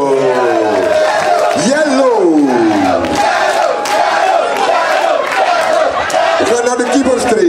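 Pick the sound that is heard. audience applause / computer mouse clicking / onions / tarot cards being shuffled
audience applause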